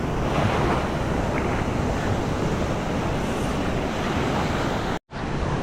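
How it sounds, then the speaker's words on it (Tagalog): Strong ocean surf rolls onto a Philippine shore where someone is casting an ultralight lure, a dense, loud, continuous roar mixed with heavy wind buffeting the microphone, cut briefly near the end. "Lakas ang alon."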